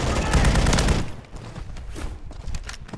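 Rapid bursts of gunfire from a Call of Duty match, dense and loud for the first second, then thinner, scattered shots continuing to the end.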